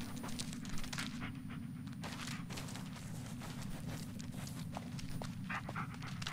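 A dog pants steadily with soft paw steps on forest ground in the Blair Witch game, close and rhythmic over a low rumbling ambience.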